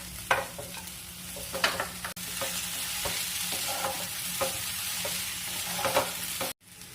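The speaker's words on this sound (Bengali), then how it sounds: "এবার এর মধ্যে দিয়ে দেব মাছের মাথাটা।" Fish head frying in a little oil in a pan while being stirred, cooking for a Bengali muri ghonto; a steady sizzle with intermittent scraping stir strokes, close and fairly loud, no talking.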